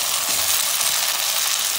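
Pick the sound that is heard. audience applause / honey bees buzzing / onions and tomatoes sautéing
onions and tomatoes sautéing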